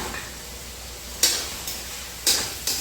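Green peas cooking in a pan are stirred in a few quick scraping bursts over a steady low sizzle, with quiet gaps between strokes.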